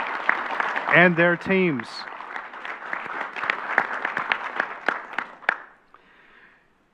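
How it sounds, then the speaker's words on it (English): A meeting-room audience breaks into applause at a university system board of regents meeting, clapping steadily for several seconds after someone speaks briefly over it, then fading out. "could we give a round of applause"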